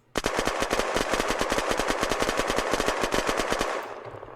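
A Zubeknakov gun in Unturned fires one long, loud automatic burst of about thirty rapid, evenly spaced shots, then stops.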